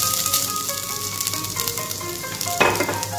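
Grated coconut frying in hot coconut oil for a Kerala sadya erissery, a steady close sizzle with faint stirring scrapes and a brief louder crackle near the end, no voices.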